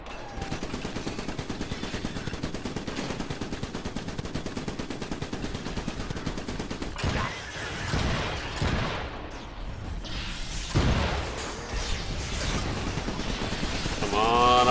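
An upgraded turret fires in the video game Iron Brigade, a rapid, rhythmic, machine-gun-like stream of shots that runs continuously, with heavier bursts and booms later on and game sounds mixed in.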